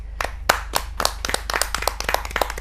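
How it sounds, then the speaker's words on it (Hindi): At a Hindi kavi sammelan, audience members clap to welcome a poet, Rajesh ji, to the stage. Crisp, distinct claps come in a loose, uneven rhythm from a fairly small group, close by and without talk. "ज़ोरदार तालियों से इनका स्वागत करिए"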